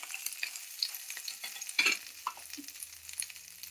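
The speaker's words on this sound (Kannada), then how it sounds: "ಮೆಣಸಿನ್ಕಾಯಿನ ಹಾಕ್ತಿದ್ದೀನಿ" Chillies roasting in a dry pan for bisibele bath spice powder, giving a short stretch of light crackling sizzle and stirring scrapes close by, with no voices.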